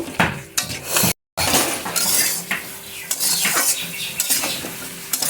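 Mixed vegetables and spices sautéed and stirred in a pan for a mung dal dish, crackling sizzle under frequent clattering spatula strokes against the metal, close and lively with a brief dropout near the start.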